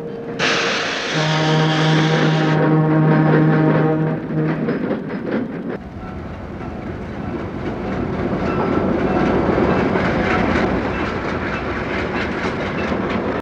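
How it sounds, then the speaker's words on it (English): Three EMD F-unit diesel locomotives of the Grand Trunk Western pass close by eastbound, sounding a loud multi-tone horn blast before the roaring engines and clattering wheels of the train continue steadily. "Three Fs are eastbound on the Grand Trunk Western."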